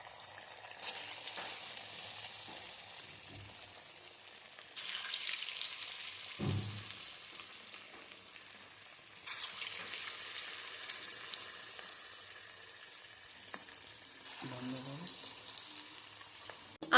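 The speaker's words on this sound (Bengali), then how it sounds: "আমি একে একে চিকেন বলসগুলোকে তেলের মধ্যে ছেড়ে দিচ্ছি" Chicken balls deep frying one after another in hot oil in a kadai for restaurant-style chicken manchurian, a steady close sizzle that surges louder as each new batch drops into the oil.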